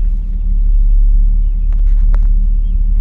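A 1960 Cadillac Coupe Deville engine idles with a loud, steady low rumble close by, and a few faint clicks and knocks can be heard over it.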